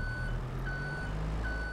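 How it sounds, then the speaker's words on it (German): A Manitou forklift reversing in the video game Farming Simulator 22 gives a steady chain of electronic beeps over a low, constant engine hum, close and clear. "Seit wann piepst dieser Manitou?"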